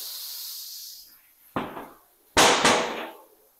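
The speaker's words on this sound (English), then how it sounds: "All right, now we got our air compressor out." Air compressor blows into a tubeless MTB tire to seat the bead, a fading hiss followed by two loud, sharp bursts of rushing air that taper off.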